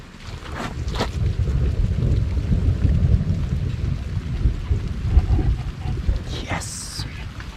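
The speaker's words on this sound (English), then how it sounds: "Check out this thunder and lightning we're watching right now." Low, rumbling thunder rolls on and off during a San Diego rainstorm, heard through wind noise and outdoor ambience, with a few brief knocks and a short high squeak near the end.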